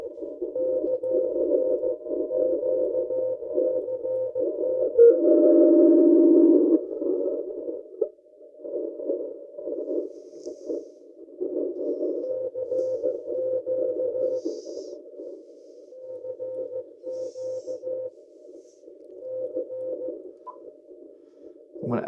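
A ham radio's sidetone in practice mode beeps a steady pure tone in irregular on-off keying bursts, like Morse code being sent, close and clear with no talking.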